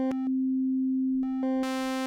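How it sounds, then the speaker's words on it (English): Hydrasynth oscillator tone with a steady fundamental, sweeping from a pure sine or triangle toward a bright, harmonic-rich saw wave, with short breaks between notes and the final note opening up fully. "if you start with, say, a sine or a triangle, you can then scroll through to a waveform like saw"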